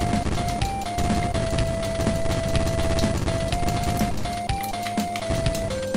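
Gunshots from the Amiga game Sonic Boom, sounding as rapid repeated synthetic pops over a steady electronic tone and game music.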